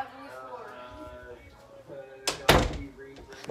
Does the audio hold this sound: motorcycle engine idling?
no